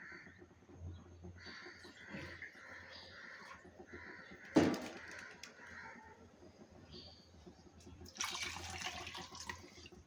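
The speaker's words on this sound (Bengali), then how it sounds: "আমি এর সাথে আর কিছুটা পানি অ্যাড করব।" Water splashes into a pan of potato and egg curry in a village kitchen. A short, loud pour comes at mid-clip and a second longer stream follows near the end, over a quieter background that includes faint birds.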